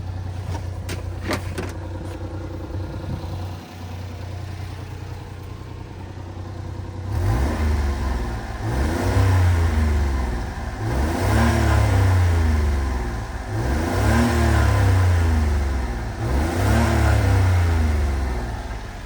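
A 1996 Honda Acty SDX small engine idles with a low steady hum, then revs repeatedly in a series of rising and falling pulls, close and moderately loud.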